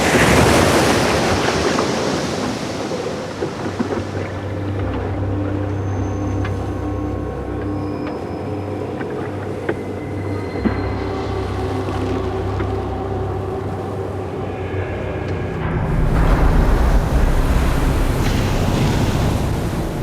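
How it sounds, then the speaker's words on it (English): Storm waves wash over the deck of a small boat at sea, a continuous loud roar of surf and gusting wind with sloshing bursts, growing heavier and closer toward the end. "rising winds are pushing waves 2 meters high over deck"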